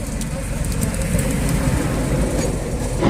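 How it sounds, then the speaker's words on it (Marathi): A train rumbles steadily at Badnera railway station in Amravati, a loud, continuous close-up roar of rolling rail cars with no talking over it. "आता आम्ही आलो आहे रेल्वे स्टेशनमध्ये अमरावतीच्या रेल्वे स्टेशनमध्ये हो बडनेराच्या रेल्वे स्टेशनमध्ये"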